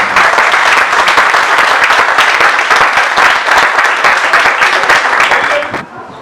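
A large audience claps loudly and steadily at a gathering, the dense applause filling the space and then tapering off near the end.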